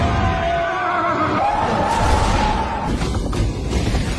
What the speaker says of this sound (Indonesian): Seekor kuda hitam tiba-tiba menerobos keluar dari bawah kapal